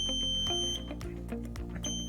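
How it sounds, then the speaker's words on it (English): A Vive wireless alarm system pager, triggered by lifting off a chair sensor pad, sounds its alarm up close: a steady, piercing high electronic tone with repeating clicks and pulses, heard alone with no talking. "And now the alarm is sounding. The alarm sounds from the pager itself."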